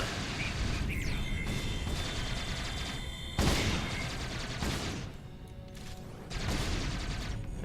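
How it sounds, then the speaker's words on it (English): Squad opening fire together in a video game: dense overlapping gunfire with sharp bursts and a few heavier blasts, loud and continuous with brief lulls, and no voices. "crouch down, open fire,"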